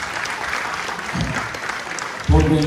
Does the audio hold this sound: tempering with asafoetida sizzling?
no